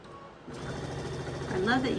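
A domestic sewing machine stitches quilt block fabric, its steady mechanical whir starting abruptly and running continuously at close range, growing slightly louder toward the end.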